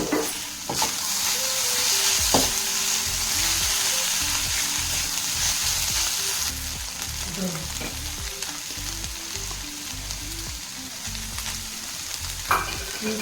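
Chicken fries in a pan with a little soy sauce, a loud continuous sizzle broken by repeated scraping stir strokes and occasional clinks, with no voices.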